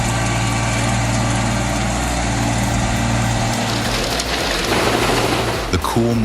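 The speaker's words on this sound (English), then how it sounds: "The wood chipper has begun its workday. The sound of the engine roars powerfully" A wood chipper engine roars loud and steady at close range during a morning stump-removal job, with a rough, dense drone that barely wavers until a brief clunk near the end.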